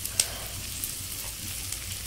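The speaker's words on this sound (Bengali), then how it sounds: "এবার তেল গরম হয়ে গেছে, পেঁয়াজ কুচিয়ে একটু ভেজে নেব" Chopped onion frying in hot oil for egg noodles, a quiet, steady sizzle with faint crackles and a brief sharp pop near the start.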